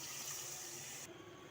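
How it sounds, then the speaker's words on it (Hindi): A little water poured into a pot of spiced chicken biryani masala with tomato, ginger and garlic, a steady soft splashing pour for about a second that then stops, leaving quiet kitchen background. "थोड़ा सा हम डालेंगे पानी"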